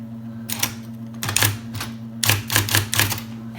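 Old manual typewriter being typed on by someone using the Dvorak layout: bursts of sharp, close key strikes in irregular clusters over a steady low hum, with no talking.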